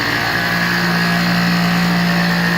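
A 50cc Blue Dino small engine idles steadily and loudly up close, a continuous buzzing drone with a strong steady tone and no speech over it.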